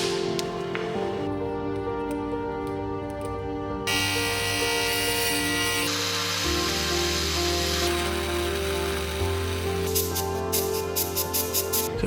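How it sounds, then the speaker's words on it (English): A multi-tool grinds down the side skirt of a classic VW Golf 2 or Golf 3 toward the sheet metal beneath, a steady close buzzing whine that shifts in pitch and load over several passes, with no talk. "get the multi-tool and slowly in a straight line grind this down till it hits the sheet metal"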